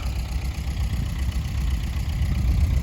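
An MTZ-80 tractor engine drones steadily at a low pitch while pulling a cultivator through a weedy field, a continuous mid-distance rumble with no voices.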